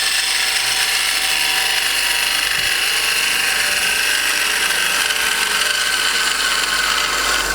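A sharpened bowl gouge cuts a winged burl bowl on a wood lathe, producing a steady, loud, continuous chattering rasp that holds evenly throughout.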